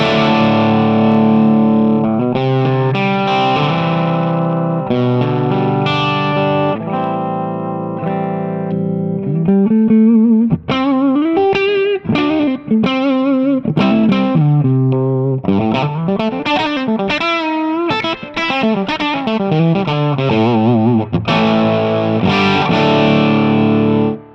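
A Les Paul electric guitar played through a Peel OR 120 amplifier, loud and distorted, with sustained chords giving way to faster single-note runs and bends, close and continuous with no talking.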